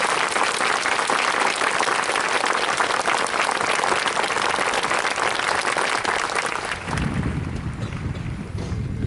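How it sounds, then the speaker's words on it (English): A large outdoor crowd gives a loud, continuous round of applause for the drill instructors and their families at a Marine recruit graduation on Parris Island. Wind buffets the microphone throughout, and the clapping thins out and softens near the end. "please join me in a round of applause for our drill instructors and their families"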